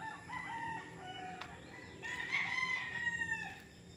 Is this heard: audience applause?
no